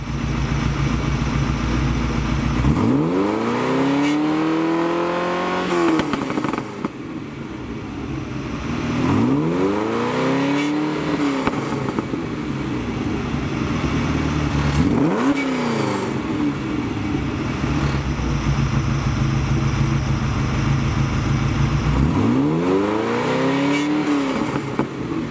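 A Ferrari 308 jacked up on one side while stationary, its engine started and revved repeatedly, with four strong rising-and-falling revs over a steady idle, loud and close.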